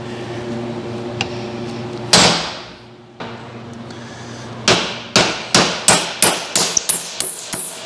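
Metallic hammer blows ring out close by while pulling a 351 Windsor engine from a 1986 Ford LTD: a couple of isolated strikes, then a steady run of evenly spaced hits, each with a ringing decay.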